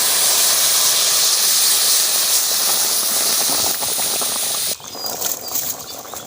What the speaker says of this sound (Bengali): তরকারিটা ঢেলে দেবো।